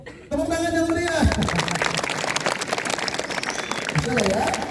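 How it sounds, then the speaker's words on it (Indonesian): Students clap at an Isra' Mi'raj ceremony at SMP Negeri 2 Kemangkon school, a lively sustained patter that swells after a brief voice, with speech drifting in near the end. "Tepuk tangan yang meriah."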